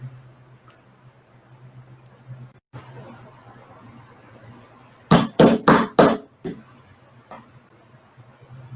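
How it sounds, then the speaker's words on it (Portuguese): A small leather hole punch is struck with a hammer on leather in a workshop: a quick run of five or six sharp, loud blows, then a couple of lighter taps, over a quiet low hum. "E com esse vazadorzinho, eu vou fazer o furo."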